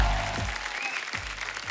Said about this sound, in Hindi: आप सबकी जोरदार तालियों के बीच।